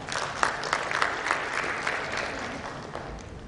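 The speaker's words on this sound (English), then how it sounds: "A round of applause for Mr. Samuel" Applause from an audience at a healthcare summit inaugural session in Rajasthan, a steady sustained clatter of many hands clapping close by, with no talk over it.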